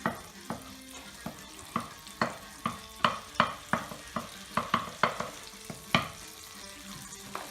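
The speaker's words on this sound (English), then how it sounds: "That's getting nice and hot now, look at that. It's starting to sizzle" Butter sizzles in a hot pan for a seafood paella with a steady crackling hiss, broken by regular sharp taps and scrapes, like a utensil stirring, close by with no voices.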